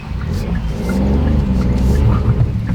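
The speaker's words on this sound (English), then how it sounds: "Do you just love the noise of the 3-pot?" Revving three-cylinder 1-litre turbo engine of a Kia Picanto GT Line with brief wheel spin, heard from inside as a steady, loud low drone that rises slightly, with a voice faintly underneath.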